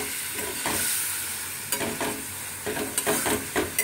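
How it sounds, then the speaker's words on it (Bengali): Potatoes being stirred and fried with spice paste in a pan for an old-style fish-roe curry, with a steady soft sizzle and several scraping stirs of a spatula, close and moderately loud, with no talking. "এই আলুটার সাথে সব এই মশলার পেস্টের সাথে একটু ভালো করে কষিয়ে নিতে হবে"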